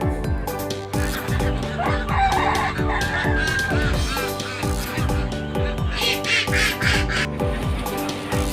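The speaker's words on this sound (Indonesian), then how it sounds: "Bebek. Duck." Ducks and other farmyard fowl call in a busy, continuous chorus of quacks and clucks over a steady rhythmic backing track, loud and dense throughout with no speech.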